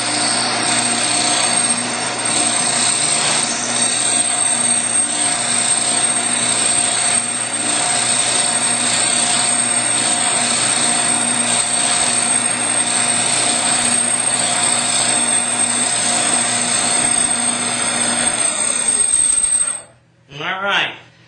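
A Shopsmith Ringmaster turns and cuts a wooden stock with a steady, loud mechanical whir that holds for nearly twenty seconds before winding down and stopping abruptly.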